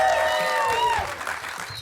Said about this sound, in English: A mighty, mighty crowd sounding much larger than they actually are